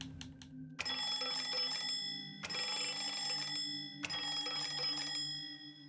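A bell in the video game Lorelei and the Laser Eyes strikes three times at a steady interval, each bright metallic ring sustaining and fading before the next, loud and close with no talk.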